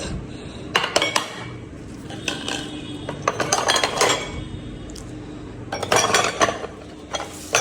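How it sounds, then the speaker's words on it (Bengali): Plates and bowls being washed, with irregular clinks and clatters of crockery and cutlery knocking together close by, in scattered bursts over a low background and no talk. "আমি আস্তে আস্তে টেবিলটা গুছাই আর থালাবাটিগুলো ধুই"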